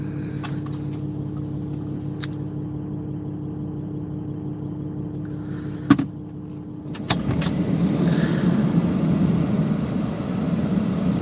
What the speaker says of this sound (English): Watch all the cars go by while I'm inside.